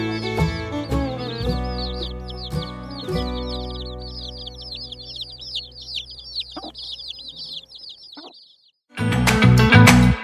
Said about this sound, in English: After 21 days, tiny baby chicks break free from their shells